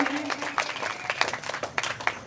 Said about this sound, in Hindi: तो मैं चाहूंगा कि रंजीत यादव के लिए भी जोरदार तालियों के साथ स्वागत करें।